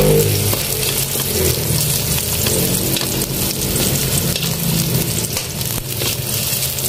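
Sardines frying with garlic and onion in a pan, giving a steady, dense sizzle and crackle that runs close and loud throughout with no talk over it.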